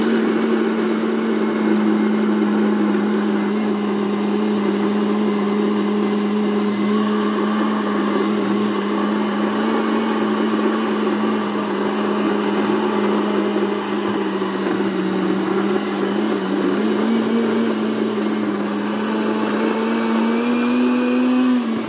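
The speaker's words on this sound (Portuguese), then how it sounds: "Agora vamos para o processo de bater aqui no liquidificador" A blender grinds pumpkin seeds for paçoca, a steady loud motor whine held for about twenty seconds with a slight pitch dip and recovery near the end, no voices over it.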